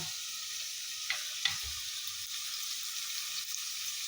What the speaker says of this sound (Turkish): Ben hemen bunu kavuruyorum. Önce etini, sonra biberini, soğanını.